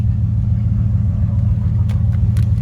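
A custom 1997 Dodge Ram 1500 show truck cruises along the highway, its engine and road rumble a steady, loud, low drone from inside the cab, with a few faint clicks near the end.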